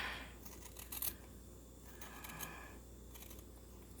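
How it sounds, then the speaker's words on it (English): Big kitchen shears snip and trim decorative Halloween paper for a journal cover, giving faint, close crisp cuts and rustles over low room hum. "Go ahead and trim off some of this with my great big kitchen shears."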